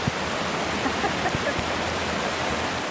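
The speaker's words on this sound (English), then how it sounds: "This is the path that we came down earlier. It's now turned into a river." Hiking path in Hawaii turned into a river by heavy rain, rushing water roaring as a dense, steady wash of noise, close and constant with no pauses.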